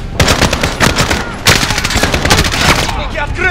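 Sustained machine gun fire in Call of Duty Warzone, loud and close with long rapid bursts, a brief break near the middle, then more firing, with shouted voices mixed in over the combat noise.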